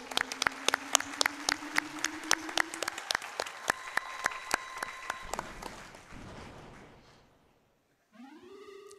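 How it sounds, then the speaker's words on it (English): Audience applause at a Games Done Quick speedrun event after a Legend of Zelda: A Link Between Worlds run, with dense clapping and sharp individual claps that swell, then fade out toward silence before a voice begins at the end. "That deserves a round of applause."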